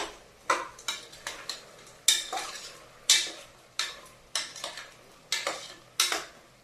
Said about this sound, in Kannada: ಉಪ್ಪು ಹಾಕಿ ಸರಿಯಾಗಿ ಸ್ವಲ್ಪ ಮಿಕ್ಸ್ ಮಾಡಬೇಕು.